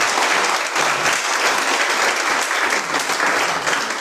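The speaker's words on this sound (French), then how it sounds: "j'aimerais qu'on l'applaudisse très fort" Audience applause for the organiser at a religious study lecture, a dense, steady clatter of many hands clapping at once, sustained at an even level throughout.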